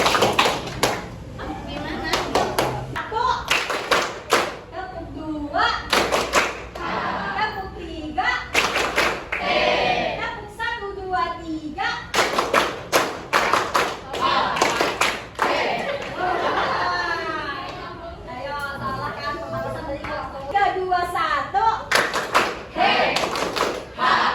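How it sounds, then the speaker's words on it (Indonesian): A classroom of high school students claps on command in a lesson, giving scattered sharp claps and thumps amid children's chatter and a teacher's voice, repeated in several short bursts across the room. "Sekarang tepuk 1."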